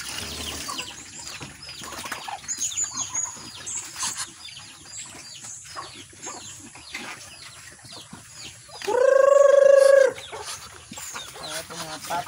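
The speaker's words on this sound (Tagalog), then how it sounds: "Ito mga pato ron. Manok." Ducks and chickens on a farm make busy overlapping clucks and quacks close by, and one loud, sustained call stands out near the end.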